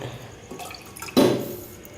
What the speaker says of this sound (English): let me top it off with a little bit of more water